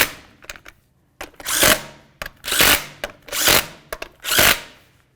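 An impact wrench runs down the lug nuts on a 2000-2005 Buick LeSabre wheel in four or five loud, close bursts, each about half a second long, with short clicks and clatter between them.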